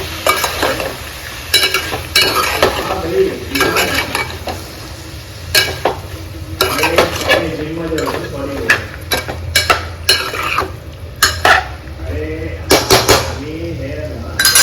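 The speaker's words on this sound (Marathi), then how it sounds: "ही डाळ जी भिजत घातलेली ती आपण ॲड करतोय आणि परत एकदा हलवून घेतोय" Soaked lentils (dal) being stirred into a ridge gourd (dodka) curry in a pot, loud and close, with a low simmer beneath clattering bursts of a spoon scraping and knocking against the metal.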